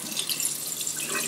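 Hot water runs steadily from a kitchen sink tap, a constant hissing splash near and moderately loud, with no talking.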